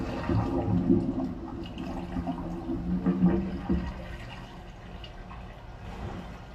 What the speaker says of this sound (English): I'm going to go over to the other room and flush the toilet